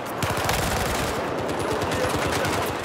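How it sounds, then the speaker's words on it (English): Gunfire in the Battlefield 4 video game fills the scene with dense, rapid, overlapping shots and a loud, steady clatter throughout. "I heard a shotgun"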